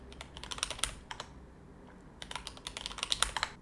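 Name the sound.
typing a passphrase on a computer keyboard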